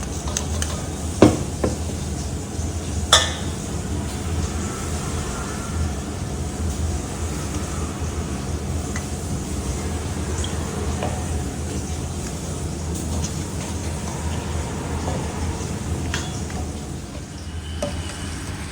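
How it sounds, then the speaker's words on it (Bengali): Spices stirred into oil for a mango pickle, a steady close scraping and stirring texture with occasional sharper clinks of a spoon against the pot, continuous and even throughout. "এটা তেলটা দিয়ে মশলাটা ভালো করে মিশিয়ে নিই"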